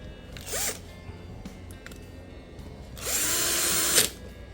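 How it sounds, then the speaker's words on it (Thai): A small lawn mower engine briefly revs up twice, rising in pitch each time, with a low idling rumble between the bursts. "คือเสียงเครื่องตัดหญ้านะฮะ"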